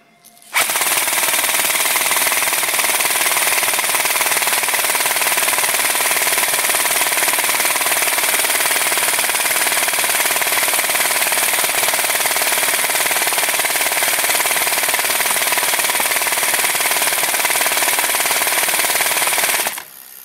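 A G&P M249 airsoft gun fires BBs in one continuous sustained burst for about eighteen seconds, a loud, steady mechanical rattle that stops abruptly.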